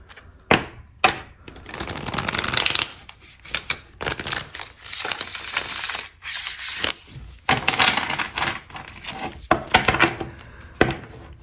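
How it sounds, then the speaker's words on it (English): An oracle card deck is shuffled by hand in repeated riffling bursts of crisp papery flicks and taps, close and fairly loud, with short pauses between rounds. "One more shuffle."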